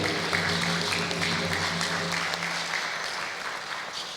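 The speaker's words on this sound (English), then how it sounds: "Let's give a round of applause." An audience at a Cowichan Tribes Chief and Council inauguration breaks into a sustained round of applause, dense and fairly loud, easing slightly toward the end.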